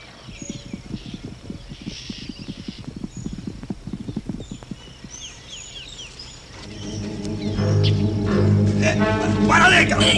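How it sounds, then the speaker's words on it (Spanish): Horses arriving, hooves clip-clopping in a quick, uneven rhythm at a moderate distance, then giving way to louder mixed commotion with voices and movement. "Vienen los caballos."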